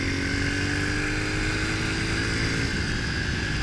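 Pit bike engine droning steadily at speed while being ridden, a continuous loud buzzing hum with wind rush and no speech.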